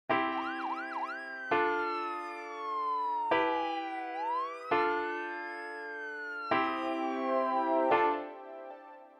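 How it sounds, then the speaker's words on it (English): An electronic siren wails and yelps in repeated bursts, its pitch sweeping up and down, loud and clear with brief gaps between phrases. "I will love to add some effects like siren."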